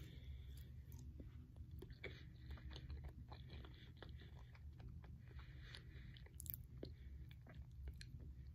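Close, quiet ASMR chewing of a small snack, with soft repeated bites and wet mouth sounds in an irregular rhythm over a low steady hum, without speech.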